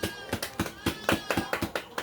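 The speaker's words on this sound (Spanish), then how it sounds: "Aplauso para él." Applause for an invited guest speaker at a Christian religious gathering, heard as a steady run of distinct, close hand claps in an uneven rhythm, with no talking in between.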